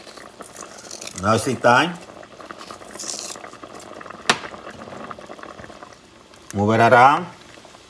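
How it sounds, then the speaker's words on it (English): A pot of Puerto Rican style bison stew simmers with a soft, continuous bubbling while a person talks in short bursts over it, with one sharp knock in between. "Now that's simmering"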